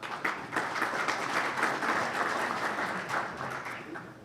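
Audience applause at the Elmhurst College Presidents Breakfast: many hands clapping steadily for several seconds in a room, a dense, even patter with no voices.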